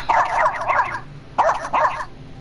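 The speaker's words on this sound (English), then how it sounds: "My dog, when she barks." A dog barks in two quick bursts of several yappy barks each, loud and near, with a short pause between the bursts and no talking.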